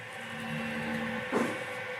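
A 3D printer runs with a steady mechanical hum and faint motor whine, followed by a short louder clunk partway through; nobody speaks.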